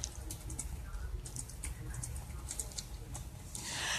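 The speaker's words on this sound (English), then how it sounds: "The doctor was typing" A doctor types on a computer keyboard, making faint, quick, irregular key clicks over a low background rumble, with a louder rustle near the end.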